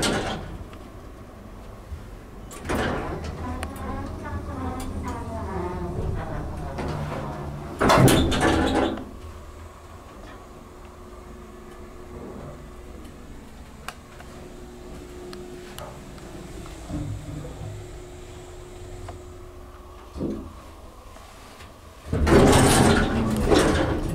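A Dover traditional hydraulic elevator's doors slide open and closed with heavy rumbling thumps at both ends, separated by a long stretch of quiet cab hum and faint mechanical sounds.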